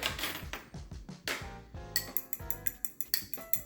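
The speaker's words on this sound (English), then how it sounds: "So in this bowl, I've already got my ricotta cheese, and to it, I am going to add an egg." Clinking and tapping in a bowl holding ricotta cheese while an egg goes in: a steady run of sharp ceramic and utensil knocks, close and clear, with no voices.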